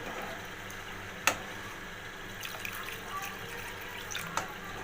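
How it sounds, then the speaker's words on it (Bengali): Lukewarm water is poured into a cooking pot of spiced chhana kofta curry, a faint steady trickle with a couple of sharp clinks. "আগে থেকেই ঈষৎ উষ্ণ গরম জল আমি করে রেখেছিলাম, সেটা এর মধ্যে দিয়ে দিলাম।"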